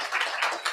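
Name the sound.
audience applause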